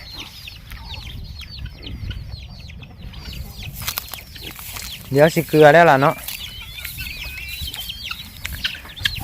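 Chickens cluck softly around a rice-field hut at dusk, small scattered calls under a woman's speech and rustling, with a louder louder burst of sound midway.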